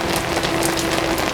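Heavy rain pounds steadily on a roof during a downpour, a dense continuous hiss and patter with no talk over it.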